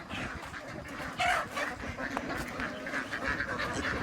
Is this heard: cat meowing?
no